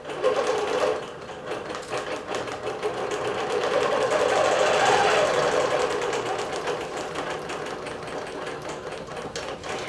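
A digital quilting sewing machine stitches a quilt with a fast, steady mechanical whir that runs close and unbroken throughout, swelling slightly in the middle.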